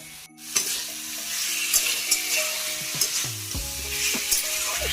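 Food frying in a pan on a home stove, a continuous sizzle with repeated scraping clinks of a spatula stirring, close and fairly loud, no voices.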